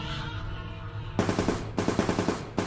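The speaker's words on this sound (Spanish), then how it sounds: "seguido de varios disparos" After a low rumbling drone, loud rapid bursts of gunfire break out, two quick volleys of closely spaced shots.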